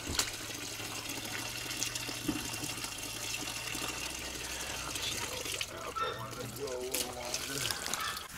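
Cold water running and splashing steadily from a tap, with people talking nearby over the flow.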